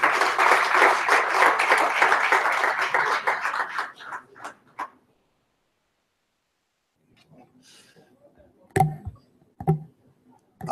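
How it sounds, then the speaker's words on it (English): Guests at a CFO awards gala dinner give a burst of applause that fades out after a few seconds, then silence broken by scattered clicks and knocks. "Can we give them a hand of applause?"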